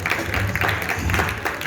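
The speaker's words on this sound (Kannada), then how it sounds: "Joel ಚಪ್ಪಾಳೆ ಬರಲಿ" An audience at a jewellery store event claps steadily, a dense and even wash of applause that fills the whole moment without a break.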